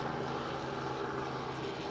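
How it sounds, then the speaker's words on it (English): A helicopter passes overhead outdoors in Victoria, its steady engine and rotor roar filling the whole stretch at moderate loudness with no talk. "meditate while this helicopter goes past"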